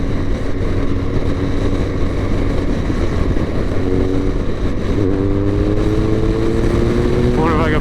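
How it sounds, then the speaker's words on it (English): Loud, close motorcycle engine drones steadily as clutchless downshifts shift its pitch in stepped glides, with a voice talking over it. "The downshifting, the clutchless downshifting is so smooth."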